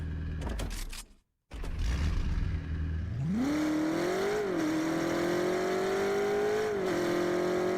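A car engine in the video game Fortnite cranks after a brief silence, then settles into a steady drone with a rising rev partway through, loud and close throughout.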